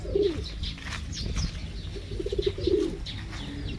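Pigeons coo in a backyard flock, soft throaty rolling calls in short bursts near the start and again later, with faint chirps and light rustling in the background.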